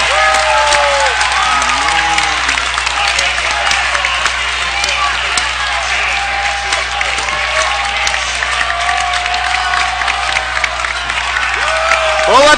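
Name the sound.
basketball crowd cheering after offensive foul call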